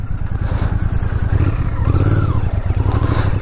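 A Royal Enfield Interceptor Bear 650 motorcycle rides off-road through mud, its engine chugging steadily with a brief rev as it pushes through, loud and close.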